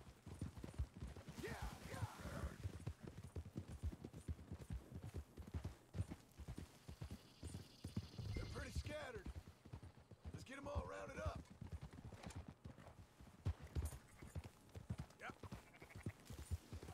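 Horse hooves clip-clopping along in Red Dead Redemption 2, a steady rhythmic patter running throughout beneath game music and voices talking.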